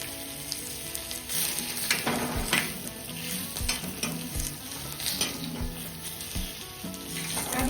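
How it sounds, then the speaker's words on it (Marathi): Onions frying in oil for a village-style chicken curry, a dense continuous sizzle with repeated stirring clatters and scrapes, close up and fairly loud, no voices. "आता या कांद्यावरती पण थोडंसं तेल आपण टाकून घेणार आहोत। आणि मस्त असा लाल भाजून घ्यायचा आहे."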